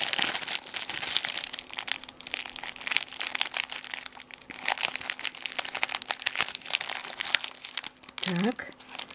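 Plastic packaging crinkles and rustles in busy, irregular bursts up close as a parcel bag is handled and torn open, with a brief voice near the end.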